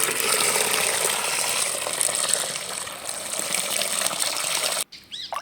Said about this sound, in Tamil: 10 கிளாஸ் தண்ணி சேர்த்துக்கலாம்